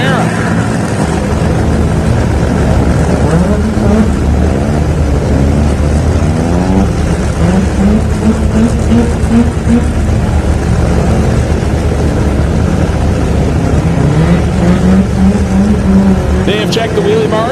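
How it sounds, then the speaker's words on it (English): A Chevrolet Camaro drag car at a no-prep drag racing event, its engine roaring loudly and continuously with rising and falling revs, heard under a commentator talking over the noise. "And we'll make a single pass here in the Camaro."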